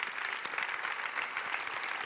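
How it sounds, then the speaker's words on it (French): An audience at the Palmes de la Relation Client 2021 awards ceremony applauds the sponsors in even, sustained clapping from a crowd, heard faintly and a little distant with no voices over it. "On va pouvoir les applaudir"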